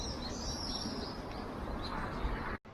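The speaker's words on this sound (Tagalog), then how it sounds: "Ang daming uwak." Crows calling outdoors at Nunobiki Herb Gardens on a windy, cold day; a few bird calls ride over a steady breezy hiss for a couple of seconds before the sound cuts off abruptly.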